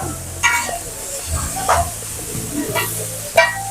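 Tibs meat frying in an iron pan gives off a steady soft sizzle, broken by a few brief stirring scrapes and light clatters at close range.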